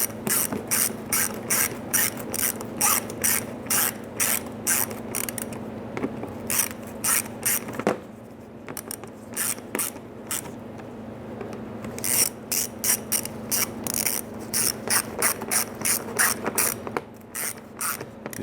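A ratchet clicks in quick bursts while snugging the A/C condenser fasteners on a 2005-2010 Chrysler 300. The close, rapid pawl clatter is broken by short pauses between strokes.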